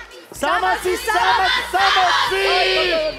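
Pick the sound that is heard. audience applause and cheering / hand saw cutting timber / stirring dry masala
audience applause and cheering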